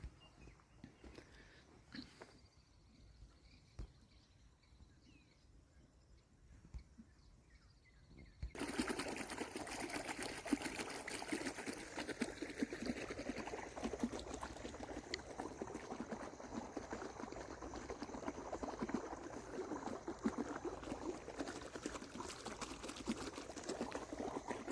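Water flowing steadily outdoors at night, faint and distant at first, then rising abruptly into a loud continuous rushing wash that lasts to the end, with no voices.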